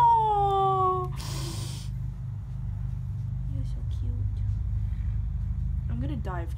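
A house cat gives a short meow near the end, faint and brief over a low steady rumble and background chatter, with people talking in the scene.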